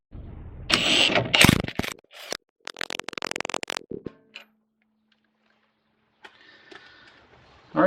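An impact wrench runs nuts onto bolts on a Dodge Charger front end in a few loud bursts of rapid hammering, separated by pauses and followed by faint mechanical noise.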